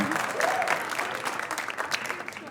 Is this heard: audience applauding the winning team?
yes